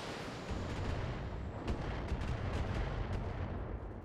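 Mech weapons firing in the BattleTech video game, a dense rumbling barrage of heavy booming shots and blasts that runs continuously and stays loud throughout, with no talking.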